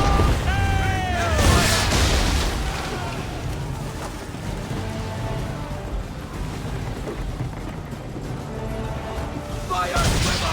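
Ship cannons boom in a naval battle in Assassin's Creed set in 1776, repeated blasts rolling over a busy mix of sea, crew shouts and game music, with heavy low-end thumps near the start and end.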